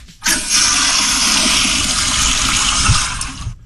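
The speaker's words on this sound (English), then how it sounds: "No need to even double flush when you have that kind of pressure going." A home bathroom toilet flushes loudly and close, a strong rushing gush that starts abruptly, holds steady for about three seconds, then tapers off, with no talking.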